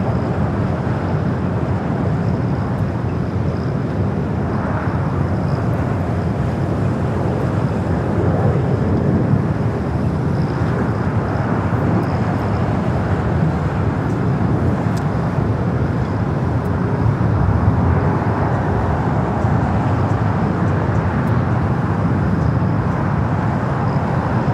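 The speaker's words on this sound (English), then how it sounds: "Flight 810 coming up from Nandi, the A350-900, on its way here to the south side." A Fiji Airways Airbus A350-900 arriving at LAX makes a broad, steady jet roar that stays loud and continuous throughout, with wind buffeting the microphone.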